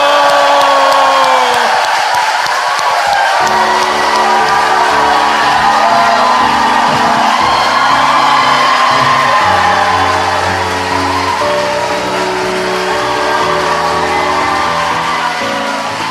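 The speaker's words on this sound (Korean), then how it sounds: "광주 시민들의 크나큰 박수로 시작하겠습니다" A Gwangju audience at a live political talk show breaks into loud cheering, whoops and clapping, with a sustained musical tone entering partway and carrying under the crowd noise.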